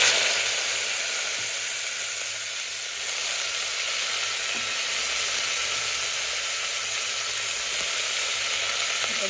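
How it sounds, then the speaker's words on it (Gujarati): Cluster beans (guar) sizzle in hot oil with a loud, even hiss that holds steady throughout, sounding close and unbroken, with no voices. "એમાં ગુવાર નાખીશું."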